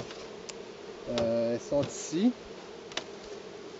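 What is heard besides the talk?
honeybees buzzing on hive frames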